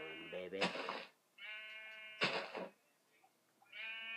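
Sheep in the Minecraft video game give three drawn-out, nasal bleats in turn, each clear and close, separated by short pauses.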